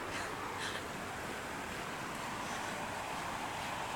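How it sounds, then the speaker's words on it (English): Floodwater from a flash flood rushes down a river, a constant roaring wash of water mixed with wind buffeting the microphone, steady and unbroken. "look at that flood up there"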